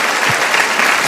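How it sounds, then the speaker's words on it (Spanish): Brief, steady applause from a large audience at a sermon, dense clapping that fills the moment at an even level. "yo los dejé aplaudir porque es verdad"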